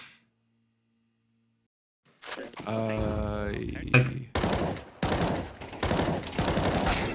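Gunfire in the video game Counter-Strike 2 arrives as a short burst of rapid shots after a quiet opening, followed by several sharp, closely spaced reports.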